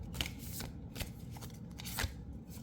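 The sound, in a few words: tarot cards being shuffled for a reading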